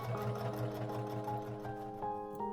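A sewing machine stitches fabric for an embroidered flannel-flower table mat, giving a close mechanical whirr with a rapid, even stitching rhythm and a few pitch shifts as the speed changes.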